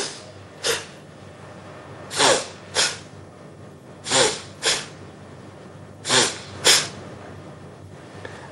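Pranayama breathing done the wrong way, with short forceful nasal breaths that come in spaced pairs, loud and close, with near silence between them and no talk.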